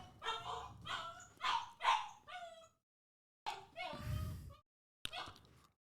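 A Tibetan Mastiff whines and yips in short, faint bursts, a run of quick high whimpers followed by two separate, isolated cries.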